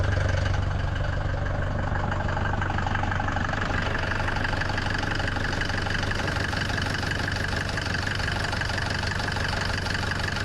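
A Mercedes 208 van's diesel engine idles steadily nearby, a constant low rumble with a faint knocking rattle running through the whole stretch, no voices.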